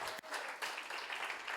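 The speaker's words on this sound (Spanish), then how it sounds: "Un aplauso para los gurises" A church congregation claps for the children, a fairly faint wash of many hands with a brief dip near the start, then steady applause to the end.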